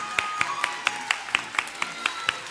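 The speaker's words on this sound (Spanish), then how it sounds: "Un aplauso para todos vosotros, de verdad." An audience at a children's carnival costume contest claps in a regular, even rhythm of about ten sharp claps in a steady round, moderately loud with no talk over it.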